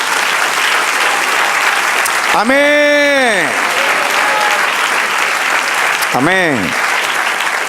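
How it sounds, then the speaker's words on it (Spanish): A church congregation claps together in sustained, dense applause while voices ring out over it in two shouted calls. "Dale un aplauso al Señor."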